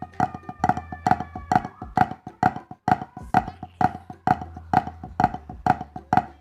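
Swiss Army triplet rudiment on a drum set, each flam followed by a single tap, repeating in an even, crisp rhythm, close and alone, about fourteen tight groupings.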